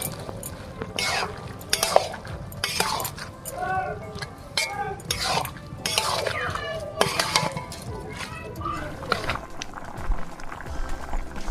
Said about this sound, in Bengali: এবারে সব উপকরণ দিয়ে একসঙ্গে কষিয়ে নিচ্ছি